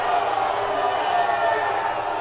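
A minor league baseball crowd of Lexington Legends fans roars and murmurs in disagreement after a double play call ends an inning, a broad steady wash of voices under a commentator's talk.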